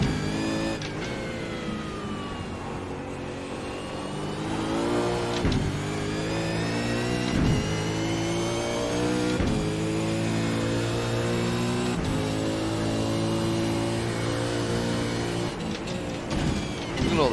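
V8 Supercar engines in an iRacing race at Detroit Belle Isle, a loud steady mid-pitched drone with gear shifts and revs rising and falling throughout, near and continuous.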